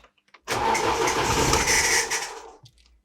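A Chery Jaggi car engine cranks and catches, a loud, close burst of starting noise lasting about two seconds before cutting out; no one speaks over it.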